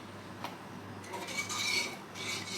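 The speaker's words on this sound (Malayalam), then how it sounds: "ഇത് നമ്മൾ കൈയെടുക്കാതെ ലോ ഫ്ലെയിമിൽ ഇളക്കി കൊടുക്കണം" Coconut milk and cornflour pudding stirred steadily in a pan over low flame, a soft continuous scraping and rubbing with faint clinks of the spoon, close and alone.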